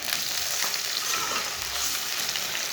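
Boiled mutton sizzles in a pan with lightly browned onions, a steady close hiss broken by scraping stirs, with no talking.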